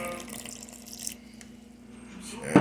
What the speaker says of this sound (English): I'm going to add a little bit of water, not very much.